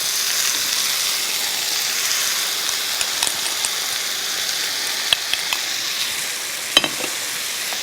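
Seasoning sauce spooned over pan-fried tofu with scallions in a hot pan, a steady bright sizzle with small crackles and pops, close and unbroken throughout.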